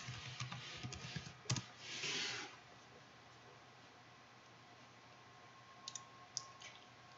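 A password is entered on a computer keyboard while an Ubuntu client is set up for a Windows Server 2016 domain: a few quiet, close key clicks and a short rustle early on, then mostly low room hum with scattered faint taps.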